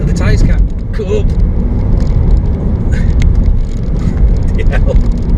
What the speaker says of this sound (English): It's just scrabbling for grip. The tyres can't cope.